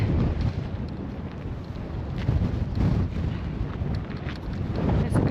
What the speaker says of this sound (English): Oh, it's very windy.